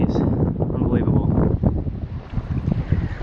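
Strong wind gusts roar across Poplar Lake in August, buffeting a microphone on a solo canoe with loud, continuous blustery rumble and some water noise.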